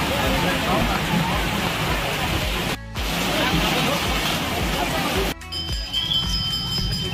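Steady, dense rain hisses evenly throughout at Udaypur beach near Digha, broken by two brief cuts, with a faint low rumble underneath.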